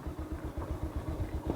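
A heavy motorcycle engine chugs along a rough road, a close, steady low thumping pulse with rhythmic beats and faint clatter, with no talk over it.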